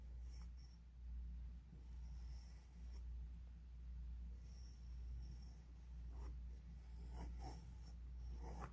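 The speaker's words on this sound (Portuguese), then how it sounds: "vou desenhar aqui, tá? o nosso círculo" A pen or pencil sliding over paper to draw a circle during a maths lesson on measuring angles, faint, soft and scratchy over a steady low hum, with no talking.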